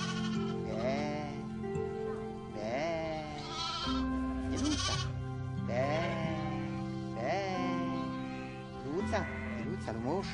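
Sheep bleat repeatedly in a Romanian shepherding setting as a ewe is coaxed to accept a lamb. The wavering calls overlap and come in quick succession at close range against a steady background.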